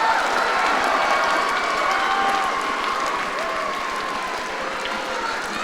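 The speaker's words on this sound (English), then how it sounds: "Could we give our seniors one more round of applause?" A school assembly audience applauds loudly and steadily, a dense wash of many hands clapping that tapers slightly toward the end.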